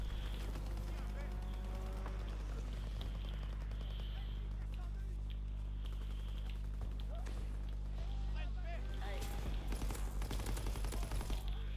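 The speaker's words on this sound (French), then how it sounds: "j'ai tiré au pif" Dense automatic fire from an STG44 rifle in a video game rattles in rapid bursts, fairly close, layered under a steady low hum and players' voices talking throughout.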